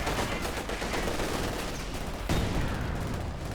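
Artillery barrage and machine gun fire in Company of Heroes 2, a continuous loud roar of rapid gunfire with a heavy explosion near the end, no voices.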